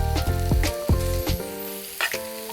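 Chopped onion, ginger and garlic sizzle and fry in a pan, with loud close bursts of crackling and short stirring scrapes over a couple of seconds.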